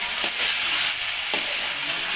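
Chicken and potato pieces fry in a pan with a continuous close sizzle, and two brief scraping strokes of a spoon stirring them, no voices.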